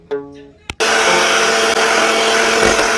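An electric hand mixer whips heavy cream with condensed milk for barley ice cream: after a short start-up whine and a click, the motor roars into a loud, steady, close drone that holds to the end.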